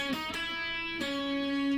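An acoustic guitar plays a short verse riff from a song, two plucked notes followed by a sustained ringing tone, close and clear with no voices.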